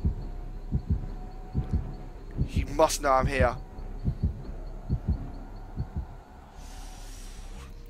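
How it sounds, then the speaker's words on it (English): Terror radius heartbeat in Dead by Daylight thumps steadily in a slow, loud double-beat rhythm. Someone speaks briefly over the middle, and a faint hiss comes in toward the end. "See, as the heartbeat decreases, he starts to walk away."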